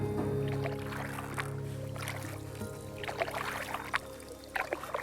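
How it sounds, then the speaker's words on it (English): Canoe paddle strokes pulling through calm water, soft close swishes and trickles repeating gently over a steady low background hum, with no talking. "You end up hearing the stroke of the paddle moving through the water"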